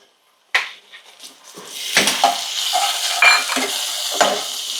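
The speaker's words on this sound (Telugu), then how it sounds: "ఇలాగే ఫ్రై చేసుకుంటే ఒక వన్ మినిట్ వరకు ఉంచుకుంటే ఫ్రై అయిపోతుంది" Ginger garlic paste hits browned onions for an Andhra-style mutton fry, and a sharp clatter of a spoon against the pan follows. Repeated scraping stirs ride over a rising, steady sizzle that stays close and fairly loud.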